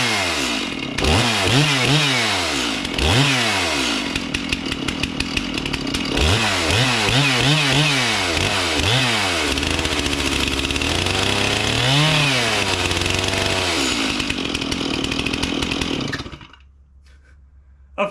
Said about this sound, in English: the chainsaw is not running right